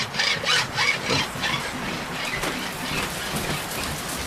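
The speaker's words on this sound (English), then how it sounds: "He won't when he sees the rain that's coming down." Steady hiss of heavy rain falling, with gusting swells of louder downpour, heard from indoors with no talking.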